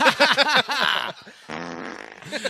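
A fart sound effect made of bursts of buzzy, sputtering blats, loud and close, with a short gap before a longer rasping one and a final brief sputter.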